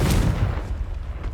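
Fire-blast spell cast in a Hogwarts Legacy game: a single loud booming burst at the start, then a rumbling, crackling decay fading over about a second, heard alone.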